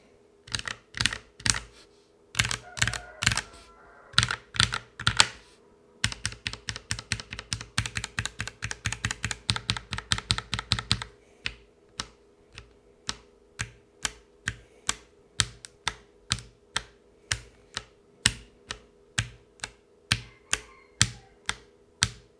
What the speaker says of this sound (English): Then the bottom row is the freshly lubed and filmed switches.